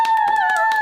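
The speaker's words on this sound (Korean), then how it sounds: "다들 박수." A group of people claps hands in a quick, rhythmic run of sharp claps over a sustained tonal voice-like hum, close and fairly loud.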